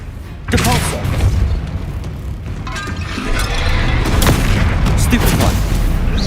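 Spell combat in Hogwarts Legacy with a Depulsor cast among booming blasts, rumbling impacts and crackling bursts, loud and continuous, with a voice speaking briefly over the din.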